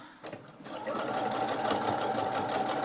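A sewing machine stitches a fabric baby comforter toy, starting after a moment of quiet handling and settling into a steady, close, whirring run of rapid needle strokes.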